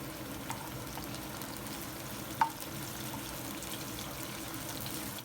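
Steady crackling sizzle of three chopped green chillies and a little mint frying in hot oil, close and even, with one brief clink partway through and no talking.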